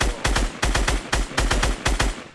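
A player fires a gun in a video game: loud, close shots in quick pairs and triplets. The bursts repeat at a steady rhythm with no talk.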